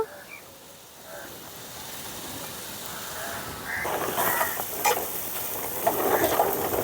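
Salt, turmeric and dry chilli powder being stirred in a hot pan for egg masala, a soft sizzle building louder toward the end with scraping strokes in the last few seconds.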